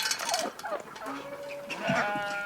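Several goats bleat in quick succession, close by, their wavering cries overlapping with some shuffling and faint background noise.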